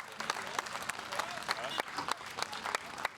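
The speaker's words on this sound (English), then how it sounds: "once it was docked, it was met with a round of applause" A harbour crowd claps as a damaged America's Cup racing yacht is towed in and docked, scattered applause with distinct individual claps at a moderate distance, while a voice talks over it.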